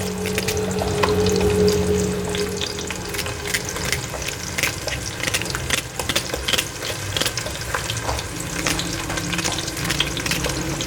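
Two finely chopped onions go into a hot pan for matar pulao and fry with a loud, continuous crackling sizzle, close by, with occasional stirring clinks and scrapes.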